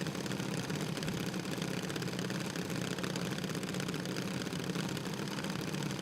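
A small CJ Racing junior dragster engine runs at a drag raceway, giving a steady buzzing drone at a moderate distance without a clear rev change, with no talking.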